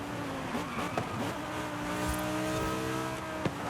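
A car engine racing in Forza Horizon 5, holding a high steady whine at speed with a brief shift or bump partway, sustained and fairly close.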